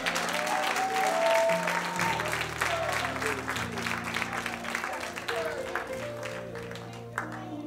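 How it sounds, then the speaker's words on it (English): A church congregation claps in praise to God, a dense sustained wash of hands under organ chords and scattered shouting voices, loud and close throughout. "give God a hand clap of praise"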